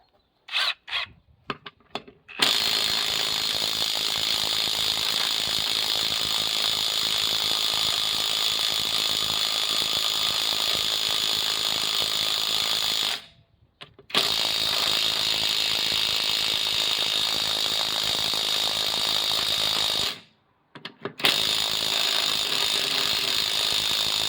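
Loud rapid hammering rattle of an Einhell impact wrench working a nut loose, running in long sustained bursts with short pauses between, after a few brief stuttering hits at the start.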